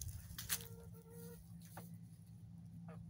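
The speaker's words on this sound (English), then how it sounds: "the chickens have been in the yard all day" Hens clucking softly in a backyard flock, a few faint, short calls scattered over steady low background hum, with no talk.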